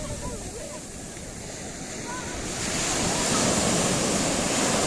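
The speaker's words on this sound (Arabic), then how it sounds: "تبارك الله البحر زوين" Sea waves wash onto a beach where people are swimming, a steady broadband surf that swells louder partway through, with some wind noise and faint voices.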